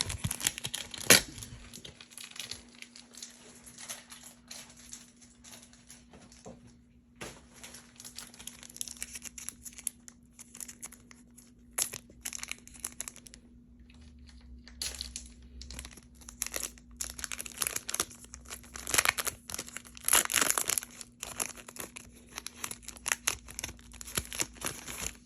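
Magic card box topper pack wrapper being torn open, a long stretch of crinkling and ripping foil with sharp irregular bursts, close and fairly quiet, with a steady faint hum beneath.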